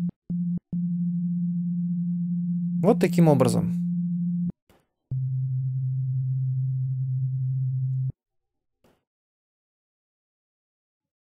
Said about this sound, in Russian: давайте посмотрим, как выглядит синусоида на анализаторе спектра